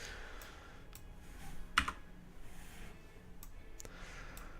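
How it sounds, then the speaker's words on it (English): A single sharp key press on a computer keyboard's small delete key above the arrow keys, with a few fainter clicks scattered around it in a quiet room. "And I'm pressing the small delete, the little delete key above like the arrow keys"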